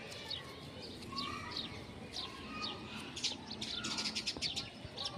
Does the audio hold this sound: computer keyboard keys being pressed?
no